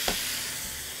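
Colored bell peppers dropped onto chicken cooking in a hot pan, giving a brief thump followed by a steady close hiss of sizzling that holds for the rest of the moment.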